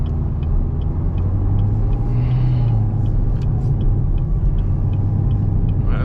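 Steady low rumble of a 900+ hp Chevrolet Camaro ZL1 engine while driving, heard from inside the car as a continuous, fairly loud drone with no talk.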